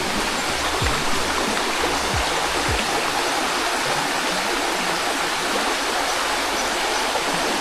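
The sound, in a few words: river water flowing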